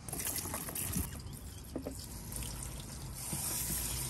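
Water drains and trickles from freshly washed, sandy mussels in a pot inside a camper van, a close, soft splashing with small drips scattered throughout.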